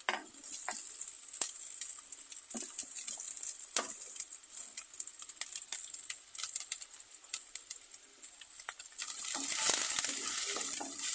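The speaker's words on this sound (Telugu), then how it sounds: "ఇది రెండు నిమిషాల పాటు వేగనివ్వాలి" Chopped onions, carrot and cabbage fry in a pan for egg fried rice, a bright, continuous hiss and crackle with scattered sharp pops, swelling louder toward the end.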